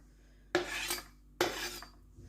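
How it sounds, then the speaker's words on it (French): Ingredients tip into a small frying pan in two quick, clattering drops about a second apart, each a sharp metallic scrape that fades fast in an otherwise quiet kitchen. "on va mettre tout ça dans la poêle"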